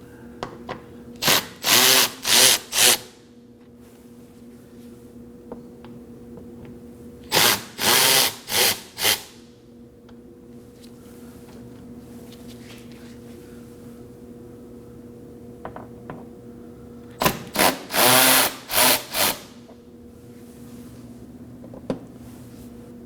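Three short bursts of power-driver spinning as a T20 socket backs bolts out of the outer edge of a 2017–2024 Nissan Armada fender, each burst a second or two long, close and fairly loud over a steady low hum.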